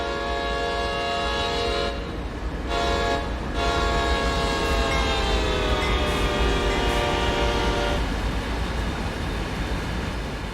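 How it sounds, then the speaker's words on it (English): A heavy CSX freight train in Train Sim World 2 rumbles loudly and continuously as it labors up the grade toward Sand Patch. Sustained multi-tone horn blasts ring out over the deep engine drone. "It takes a while to get these big trains moving."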